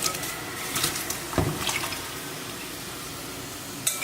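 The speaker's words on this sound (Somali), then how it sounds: "shrimpka biyaha aan ku shubanaynaa digsiga dabka ii saaran si uu noogu bislaado" Water splashes and pours into a cooking pot set on the stove for boiling shrimp, a steady close stream with a couple of sharper knocks and splashes along the way.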